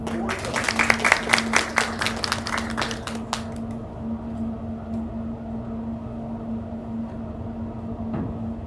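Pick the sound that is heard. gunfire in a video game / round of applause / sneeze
round of applause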